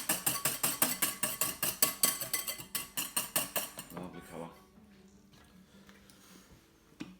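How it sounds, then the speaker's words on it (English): A whisk beats egg yolks in a bowl with a fast, steady run of clinking strokes for about four seconds. Then the clinking stops and only quiet kitchen sounds remain. "I'm going to whisk them again, or as Gran used to call it, switch the eggs."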